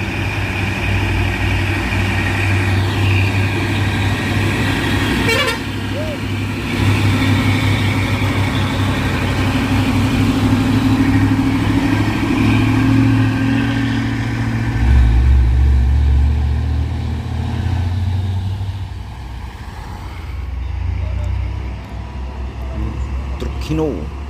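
A Hino Trinton truck's diesel engine rumbles steadily at close range on a hill road, low and continuous for over twenty seconds, with people talking over it throughout.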